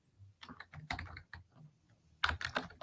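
Someone types on a computer keyboard, irregular clusters of close, crisp key clicks with brief gaps between bursts.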